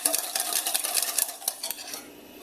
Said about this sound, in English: give this thing a nice whisk to really incorporate everything